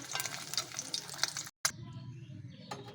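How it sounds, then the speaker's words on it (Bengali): Two eggs fry lightly in oil in a wok, making a close, steady crackling hiss with faint stirring and a brief cut in the sound partway through. "হালকা ভেজে তুলে নেব।"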